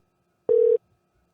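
A single short, steady electronic busy-signal beep from a phone call that fails to connect, clear and isolated against silence.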